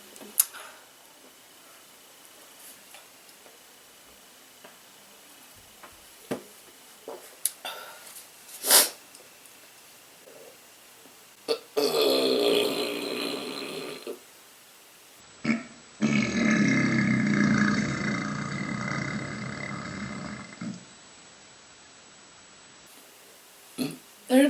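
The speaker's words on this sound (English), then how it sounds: "Oh, maybe I have a burp." A person burps during a mukbang meal of carne asada fries, two long, loud, rumbling belches in a quiet room, separated by a pause and preceded by faint scattered clicks and small mouth noises.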